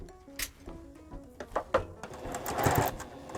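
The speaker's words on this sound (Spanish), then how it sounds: "voy a hacer una costura" A sewing machine runs a short seam on a homemade cloth face mask, a close, whirring burst of rapid stitching that builds and speeds up toward the end.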